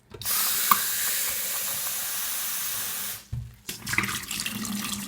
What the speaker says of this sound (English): so now I'm going to rinse it.